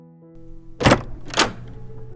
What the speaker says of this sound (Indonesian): Terdengar suara pintu dibuka.